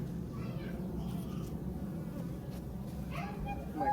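Honey bees hum steadily at an opened hive that holds larvae and pollen, a dense continuous buzz close to the listener throughout, with a few brief higher sounds near the end.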